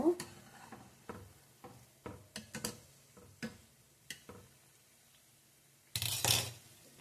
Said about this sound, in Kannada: ಮೀಡಿಯಮ್ ಉರಿಯಲ್ಲೇ ಫ್ರೈ ಮಾಡ್ಕೊಳ್ಳಿ